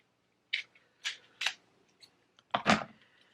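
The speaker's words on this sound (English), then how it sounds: "I can't get it open. I have to use my little scissors here." Small scissors cutting open thick makeup packaging, four or five sharp, isolated snips spaced about half a second apart, close and crisp against a quiet background, the last cut louder and longer.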